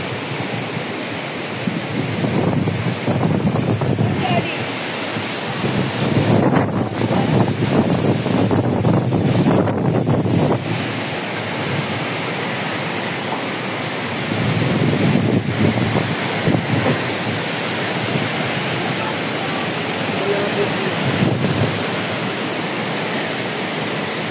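Typhoon Uwan batters a house with strong wind and rain, a continuous roaring rush with gusty surges that swell and ease, loud and close to the microphone, no talk.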